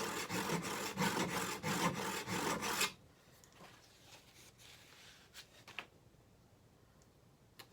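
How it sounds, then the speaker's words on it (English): A steel chisel rasps back and forth across a sharpening stone, about nine evenly spaced close strokes in quick rhythm, then a pause followed by a few faint scrapes and taps. "you can see how the sharpening stone has hit it all the way across that bevel right there"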